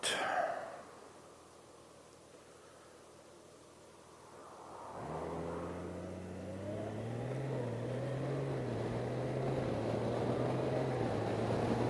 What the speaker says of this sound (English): I think I'll wait for that car